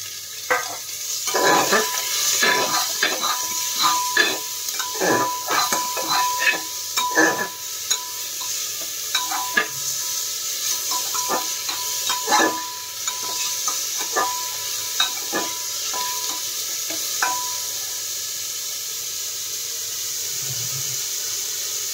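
Garlic and chopped tomato sizzle in a pan for a chicken stew, with repeated sharp stirring scrapes over a steady frying hiss that fades toward a quieter, even sizzle.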